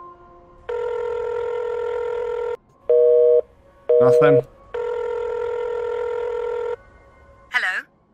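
Telephone ringing in a video game: two long electronic ring tones separated by shorter tonal beeps, loud and close, with brief speech-like bursts between them.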